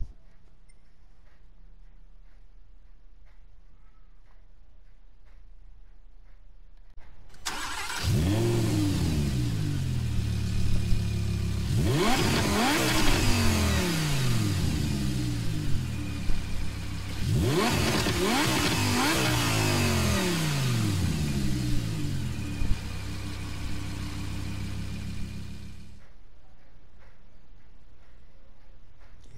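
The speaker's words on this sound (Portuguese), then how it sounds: "Esse é o ronco da Lamborghini Huracan." A stock, unmodified Lamborghini Huracan revs loudly in Gran Turismo Sport. It starts after a quiet stretch, with two big rising and falling sweeps over a steady drone, then cuts off abruptly, with no voices.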